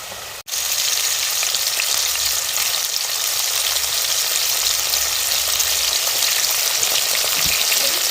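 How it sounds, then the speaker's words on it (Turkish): Steady, loud sizzling of peppers and potatoes frying in a pan in oil, a continuous crackling hiss with no talking. "Patatesim kızardı. Biber kızarttım biraz."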